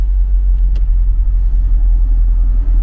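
A 1991 Talbot Express van's engine idles steadily while warming up, a continuous low rumble holding close and even throughout, with no talk over it.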